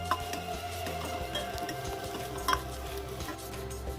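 Onions fry in a pan for chicken biryani, cooked until golden without burning: a steady close sizzle runs throughout with soft stirring scrapes and one brief metallic clink of the utensil partway through, no voices.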